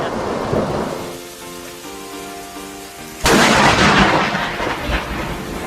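A lightning strike during a storm with rain falling, followed by a sudden, loud, close crack of thunder that rolls on as a heavy rumble.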